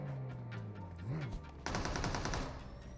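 Gunfire in the PUBG Mobile video game, a rapid burst of close, loud shots in the second half, following muffled game sounds and brief talk.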